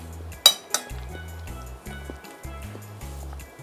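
A metal spoon clinks against a plate while chicken curry with chicken wings is eaten, two sharp clinks followed by softer scraping taps over a background of steady music.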